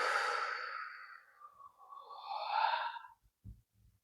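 A long, breathy exhale during a guided art meditation, a broad airy sigh that fades slowly over about three seconds, followed by two soft low thumps near the end.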